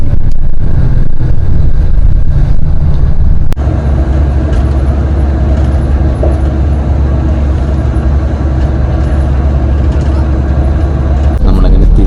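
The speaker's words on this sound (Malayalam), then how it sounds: "വലിയ ബസ് വരും." A large bus at Ekkamai station in Bangkok, its deep engine rumble loud, steady and close throughout, with a brief jolt partway through.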